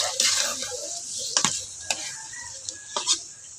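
Farm-fresh grass carp pieces stir-fried with spices in a pan, a close, continuous sizzle broken by several distinct spatula scrapes and knocks, with no talk.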